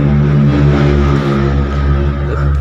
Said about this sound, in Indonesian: ngedenger suara motor lewat tadi